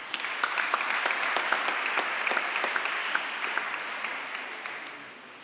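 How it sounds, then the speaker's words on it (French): Steady applause from the congregation at a Sunday afternoon church mass, honoring the men's choir and musicians on its 18th anniversary, a moderately distant, even wash of clapping that slowly fades toward the end. "Je vous invite à les applaudir."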